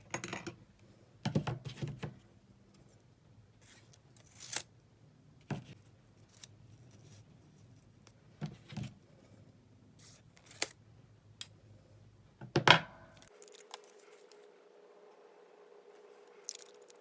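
Scissors snip through paper chromatography strips in a quiet room, a series of separate crisp cuts spaced a second or two apart, close and fairly faint, with no one talking.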